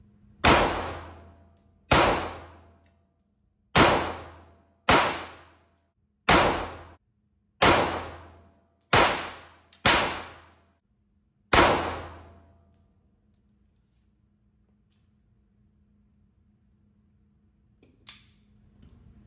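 A Smith & Wesson M&P 2.0 full-size carry comp pistol with a red dot fires nine sharp, loud shots at uneven intervals, each cracking and ringing off, followed by several seconds of near silence and one faint knock.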